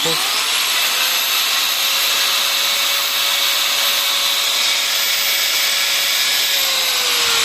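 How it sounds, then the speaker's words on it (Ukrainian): A loud, steady high-pitched whine of an angle grinder powered by a 2600W pure sine wave inverter, running continuously at full speed, close up, with no talking. "запускаємо ми болгарку"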